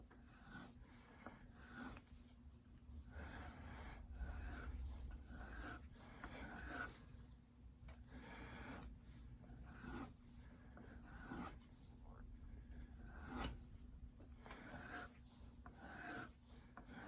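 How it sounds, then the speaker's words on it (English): A mill knife drawn over a leather strop in steady back-and-forth strokes, about a dozen soft rasping passes at an even rhythm, close and quiet against a low hum. "now we're going to strop this on our leather strop here"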